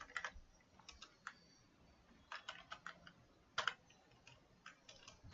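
Computer keyboard being typed on, a quiet, uneven run of light key clicks in short bursts with pauses between them, close and without speech.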